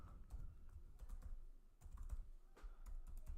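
Keystrokes on a computer keyboard as a password is typed, a quick uneven run of close, soft clicks with a few short pauses.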